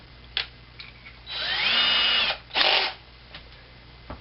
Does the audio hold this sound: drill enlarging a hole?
yes